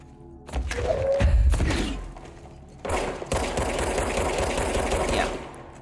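Bursts of automatic gunfire in the video game Control, rapid rattling volleys with heavy thumps, one burst then a longer sustained stream after a brief pause.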